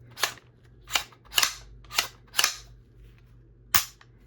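Sharp metallic clicks from a Masterpiece Arms Defender MPA30T rifle's trigger and action during a function test, six crisp snaps spaced unevenly against a quiet background.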